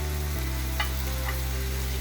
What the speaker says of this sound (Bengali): আমি হালকা ভেজে নিব পেঁয়াজটা